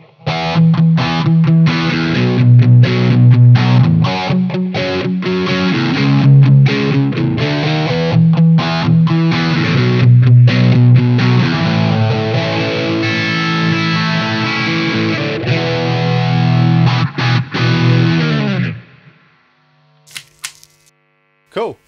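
A distorted electric guitar on the bridge pickup, with a gain pedal adding overdrive, plays a driving, chunky riff for about eighteen seconds, then stops abruptly, leaving a brief low hum and a few faint clicks.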